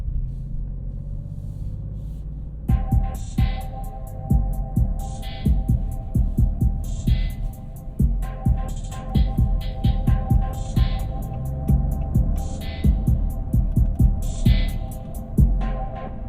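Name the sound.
music on Maserati GranTurismo Modena Sonus Faber sound system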